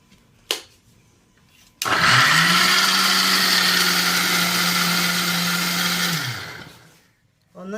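An electric mixer grinder crushes coconut, garlic, shallots and cumin into a coarse paste, a loud steady motor whine running for about four seconds after a sharp click, then winding down to silence.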